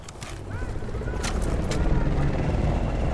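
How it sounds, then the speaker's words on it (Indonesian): A helicopter in the Battlefield Bad Company 2 video game, a constant low rotor thrum rumbling throughout with sharp bursts over it, while a person talks. "Helikopter."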